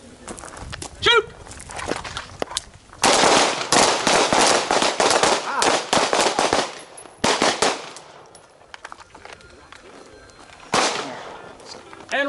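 Rapid bursts of handgun shots ring out during a combatives class drill, several tight strings of fire separated by brief pauses, loud and close, with an instructor's voice briefly heard.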